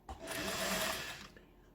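A Singer 401A sewing machine runs steadily, stitching fabric on a long stitch setting, a fast continuous whirring hum that rises quickly and holds for about a second before winding down, close up with no talking.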